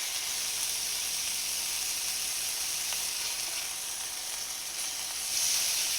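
A burger patty for a cheese-stuffed burger sears in a hot pan with a constant close hiss and crackle that holds steady throughout, with no talking.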